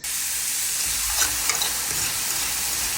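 Garlic, onions, carrots and peas sizzling and being stir-fried in a hot pan for Chinese fried rice, a steady close hiss with faint scraping stirs and no talking.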